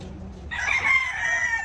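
A rooster crows once, a single drawn-out, strident call that starts abruptly and holds for over a second, close by.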